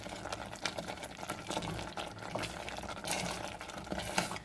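Cranberries simmer in a pot for sauce, a steady close bubbling and soft popping crackle that runs continuously without pause.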